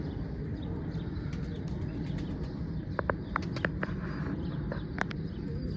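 A pigeon sits over its chicks in a loft, giving a few soft coos and short calls midway through over a low, steady background murmur, with no speech.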